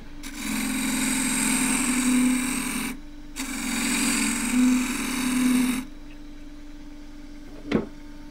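A scraper tool cuts into eucalypt burl spinning on a wood lathe, giving a loud, steady rasping shear in two long passes with a short break between, then the lathe hums on alone.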